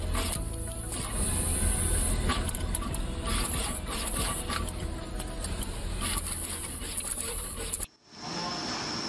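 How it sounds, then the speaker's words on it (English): Machinery on a PCB factory floor where pick and place machines set through-hole parts and solder them into circuit boards: continuous busy mechanical whirring and rapid clicking, loud and steady, that cuts off abruptly near the end. "the TST parts are placed and soldering through the holes using pick and place machines"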